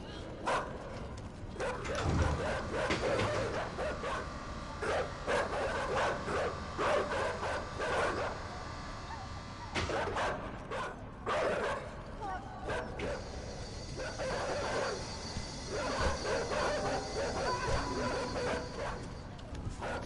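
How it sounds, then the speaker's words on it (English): Several dogs bark, yip and whimper repeatedly outdoors, overlapping in a busy, restless stretch with other noise and a voice mixed in. "Fucking dogs."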